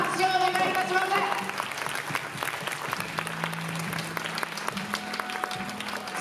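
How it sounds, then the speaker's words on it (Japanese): Audience at a student film festival hero show applauds two costumed heroes, a dense steady clapping that fills the room and gradually thins, with a voice speaking over the tail end. "皆さん、二人のヒーローに大きな拍手をお願いいたします。"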